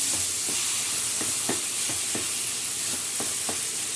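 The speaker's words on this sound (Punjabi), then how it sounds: "ਇਹ ਵਾਲੀ ਜਿਹੜੀ ਇਹ ਆਪਾਂ ਬਣਾਵਾਂਗੇ ਗੁੜ ਵਾਲੀ ਇਹਨੂੰ ਆਪਾਂ ਚੰਗੀ ਤਰ੍ਹਾਂ ਰਲਾ ਦਾਂਗੇ ਜੀ" A spoon repeatedly scrapes and stirs grated raw mango chutney with crushed jaggery in a pan, soft rhythmic scrapes about twice a second over a steady sizzling hiss, close and fairly loud, with no talking.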